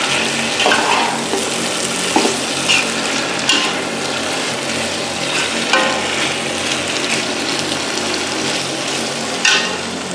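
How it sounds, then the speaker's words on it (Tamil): Slit green chillies sizzle and fry in hot oil in a pan for chicken biryani, with a steady loud crackle and occasional stirring scrapes, no voices. "கீறின பச்சை மிளகாய், இந்த பச்சை மிளகாயும் அதில் சேர்க்குறோம். நல்லா கிளறி விடுங்க."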